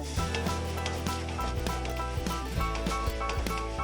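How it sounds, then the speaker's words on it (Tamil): A spoon stirs chilli sauce, tomato sauce, soy sauce and vinegar together in a bowl for Indo-Chinese hakka noodles, giving quick repeated scraping strokes in an uneven rhythm under a faint steady background tone. "சில்லி சாஸ், டொமேட்டோ சாஸ், அடுத்து சோயா சாஸ், அடுத்து வினிகர். இப்போ இது எல்லாத்தையும் நல்லா மிக்ஸ் பண்ணிக்கலாம்"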